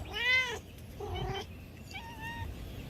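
A pet cat cries outdoors in a backyard, giving three drawn-out meows with pauses between them, close and fairly loud.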